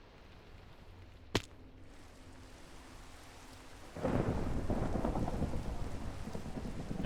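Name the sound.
thunderstorm with rain in Minecraft Monifactory video game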